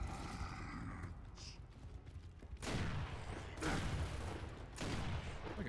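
Vol-tec rifle shots in the Gears of War video game, three loud sharp blasts spaced about a second apart over a low background rumble, with faint mechanical clatter between them.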